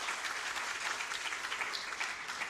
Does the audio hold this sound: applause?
yes